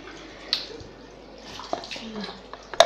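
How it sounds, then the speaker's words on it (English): Water splashed onto a face at a bathroom sink: a few soft, close splashes and trickles come in short bursts, with a sharper splash near the end. "Now I'm just going to splash water on my face and dry it off."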